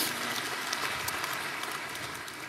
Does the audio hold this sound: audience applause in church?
yes